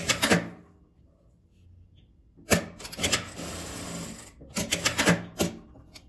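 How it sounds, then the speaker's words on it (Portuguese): Short mechanical bursts of a sewing machine stitching a fabric wallet flap, one brief run, a pause, then several quick clattering runs in succession, close by and fairly loud. "eu vou costurar de um lado e do outro"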